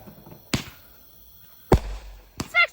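Fireworks at a Fourth of July show go off in three separate sharp bangs spread over a few seconds, the last followed by a brief crackling burst, set against quiet outdoor background.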